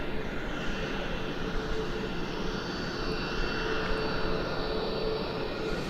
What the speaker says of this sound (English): we've got Qantas.